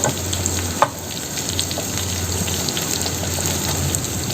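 Steady, close sizzling of fish frying in hot oil in a pan, a constant crackling hiss with a single sharp tap partway through.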